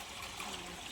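Water runs from a pipe into a container on a farm, a steady close trickling stream with no talk over it.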